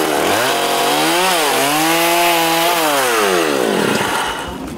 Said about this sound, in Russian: постоянно слышится работа пилы и стук молотков